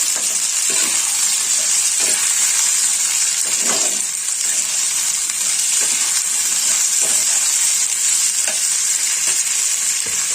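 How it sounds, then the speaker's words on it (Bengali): Soaked, softened chickpeas fry with potatoes in a pan for a banana-flower ghonto, with a continuous sizzle broken by repeated scraping strokes of a spatula at irregular intervals. "ছোলাটা একটু আলুর সঙ্গে ভেজে নেবো"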